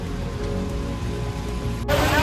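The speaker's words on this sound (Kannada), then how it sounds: "ಮಿಂಚು ಗುಡುಗು ಸಮೇತ ಮಳೆ ಬರ್ತಾ ಇದೆ ನಮ್ಗೆ" Heavy rain pours steadily onto surfaces nearby, a dense, loud hiss that continues unbroken, with a sharp burst near the end. No distinct thunder rumble stands out.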